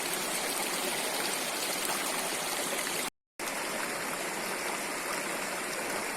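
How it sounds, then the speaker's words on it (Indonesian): A river stream flowing through farmland and valley terrain, a loud, steady rushing of water close by, broken only by a brief silent gap midway. "So, crossing the river is fun."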